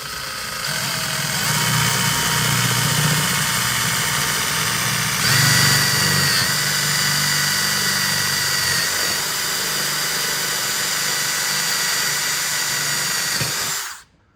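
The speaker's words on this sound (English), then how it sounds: "You want to try to drill the hole right in the center of the belt line." A power drill bores a hole through the upper belt line trim on a Monaco motorhome, whirring steadily and loudly up close for about fourteen seconds with a brief surge partway through before stopping.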